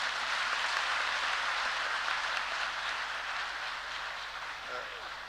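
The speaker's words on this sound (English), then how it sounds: "Let's have another clap for Swastika" Audience applause for a speaker at a cyber safety and digital empowerment event, a dense steady wash of clapping that carries through the whole stretch and tapers slightly near the end.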